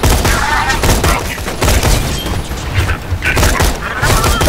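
A grenade blast and rapid gunfire in the video game Borderlands 2 come as a loud barrage of booms and crackling shots, dense and continuous with repeated heavy thumps.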